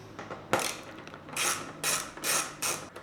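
A T25 Torx screw is backed out on a 2025 BMW S1000RR motorcycle with a ratcheting driver, heard as about five short, close, quiet ratchet bursts with pauses between them.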